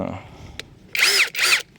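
A cordless power drill with 85 Nm of torque and a 10 mm chuck whirs in two short, loud bursts separated by a brief pause, with a faint click earlier and some low murmur at the start.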